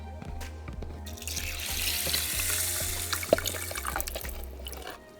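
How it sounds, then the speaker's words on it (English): Two cups of water poured into washed rice in a pot, a steady splashing, running pour close by that lasts about five seconds and then stops, with no talking. "And I'm adding 2 cups of water."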